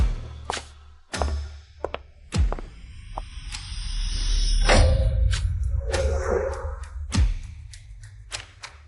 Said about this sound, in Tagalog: Buksan ko ang pinto.